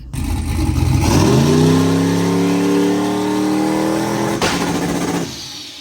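A turbocharged 5.3 V8 Mustang engine revs up on a 3-step launch limiter and holds at a high, steady pitch for several seconds, loud and close, then cuts off with a sharp pop and fades.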